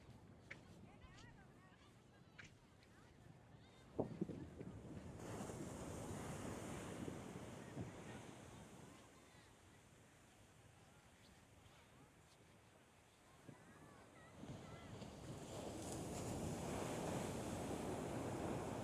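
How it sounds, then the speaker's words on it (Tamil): Ocean waves break on a shore in a steady, rushing roar with gusts of wind buffeting the microphone, and a voice talks over the surf. "அலை வர்றது அப்படியே பக்கத்தில் உங்களுக்கு காட்டுறேன்"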